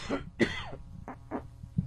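Several short, quiet coughs sound in a loose sequence, with a small throat-clearing quality, close by and unaccompanied by speech.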